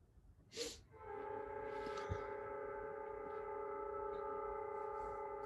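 A train horn blares steadily and loudly, sustained for several seconds after a short burst of noise, with rumbling rail sounds underneath.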